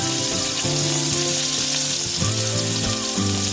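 Tomatoes sautéing in hot oil in a pan for milkfish adobo, a dense continuous sizzle with a faint steady hum underneath, close and even throughout.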